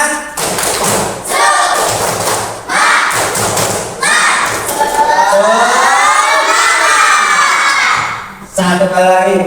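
Children in an Islamic religious education class do a rhythmic clapping chant, with loud thumping claps in bursts followed by excited group shouting and cheering, close and energetic.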